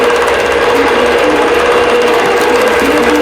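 A quilting machine starts stitching a wholecloth quilt, running as a loud, steady mechanical whir with a constant hum and no pauses or voices.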